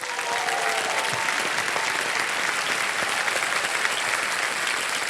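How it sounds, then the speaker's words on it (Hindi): Studio audience applause on the KBC quiz show, loud dense clapping that fills the room steadily from start to finish. "और तालियां बज जाए योगेश जी के लिए"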